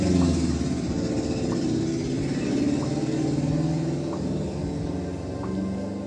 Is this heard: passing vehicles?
yes